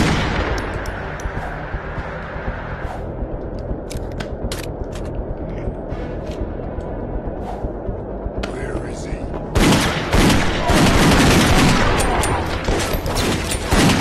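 Rapid bursts of gunfire crackle through a steady hum in the VR wave shooter Dead Second, shots coming in quick volleys, growing louder and denser toward the end.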